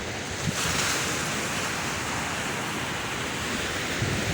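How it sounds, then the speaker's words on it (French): Continuous roar of ocean waves washing in on the Senegalese coast, broad and steady, with a breezy rush and no voices. "Le bruit des vagues."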